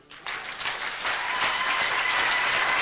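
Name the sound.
congregation applauding at a church sermon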